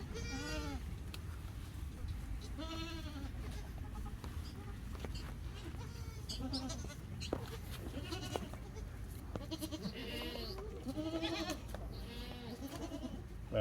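A herd of goats bleats repeatedly on a farm during a hoof-trimming session, several wavering calls overlapping near and far over a low background rumble.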